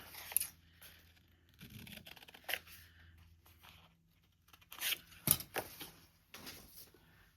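Scissors snipping through a piece of green paper close up, in short irregular bursts of crisp cuts separated by quiet pauses.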